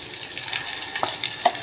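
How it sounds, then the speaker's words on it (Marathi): Hot oil hisses and spits steadily while tempering green chutney, with a few sharp splattering pops near the end. "बघा पूर्ण उडते, तेल उडते"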